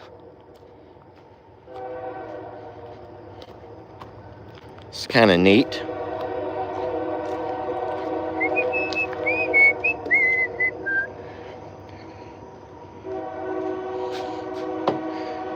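A distant train horn sounds in drawn-out blasts with a rumble beneath; a brief swooping whistle and a short spoken remark come in between.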